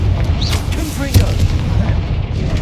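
A Confringo fire spell blast from Hogwarts Legacy lands as a sharp boom in the middle of a dense stream of game noise and layered combat effects, with a voice heard in the mix.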